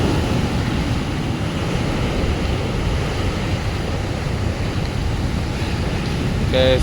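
Sea waves surge continuously at Ganeshamangalam beach on rough water, a loud, steady roar of surf mixed with wind buffeting the microphone, no voices over it.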